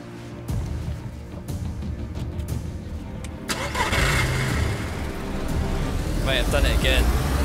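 A car engine in DayZ cranks and catches, settling into a running mid-pitched engine that grows louder and revs, with people talking over it.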